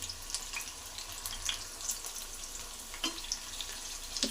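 Brinjal (eggplant) frying in a generous amount of oil in a pan, a soft, continuous crackling sizzle with scattered brighter pops, quiet and close.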